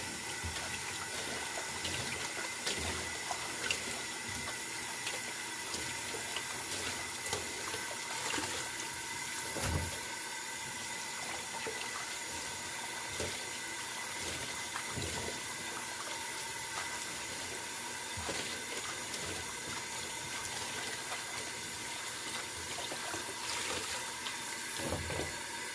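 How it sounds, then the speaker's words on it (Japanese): Tap water runs continuously over pickling plums being rinsed in a kitchen to remove soil and dirt, a steady splashing stream with occasional small knocks and shifts of the fruit, no talking. "流水で2、3回よくきれいに土やら汚れを落とします。"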